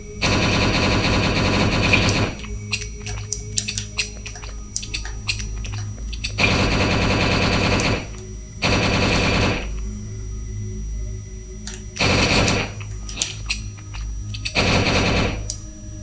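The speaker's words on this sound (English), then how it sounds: "That's the first thing I'm shooting." Rapid automatic gunfire in the zombie survival video game Last Hope Bunker, loud bursts of machine-gun fire in several separate volleys with short pauses and scattered single shots between them.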